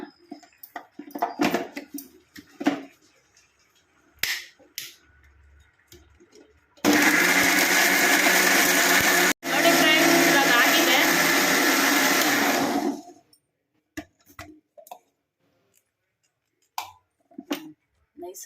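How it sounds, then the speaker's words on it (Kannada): A mixer grinder grinding masala for chicken sambar whirs loudly and steadily for about six seconds, with a brief stop in the middle, between quieter clinks and short bits of handling noise. "ನೋಡಿ ಫ್ರೆಂಡ್ಸ್ ಇವಾಗ ನೈಸಿಗೆ ರುಬ್ಕೊಳ್ಳೋಣ"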